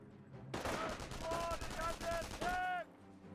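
MG42 machine gun fire in the Company of Heroes video game, garrisoned inside a building: a sustained rapid burst rattling for several seconds over background battle noise, with a voice talking over it.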